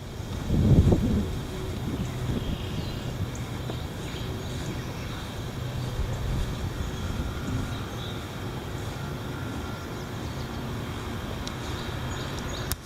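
Heavy wind roars steadily into the microphone, with a louder buffeting gust near the start and then continuous broadband rumble and hiss that stays strong throughout, with no voices.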